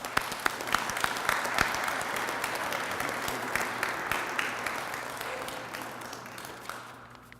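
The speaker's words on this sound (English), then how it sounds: "Please, a round of applause, please." An audience at an ROTC commissioning ceremony gives sustained applause, steady dense clapping from a large crowd in a hall that tapers off toward the end.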